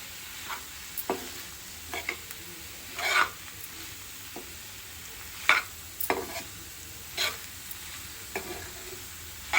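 Paneer bhurji with mixed vegetables being stirred in a pan: irregular scraping strokes from a spatula over a quiet, steady sizzle, fairly close, with no talking.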